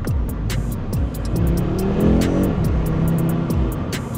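An Audi 8Y RS3 five-cylinder engine revs hard and close, its throaty warble climbing and falling through repeated blips with crackling pops on the overrun.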